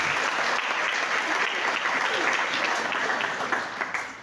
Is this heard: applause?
yes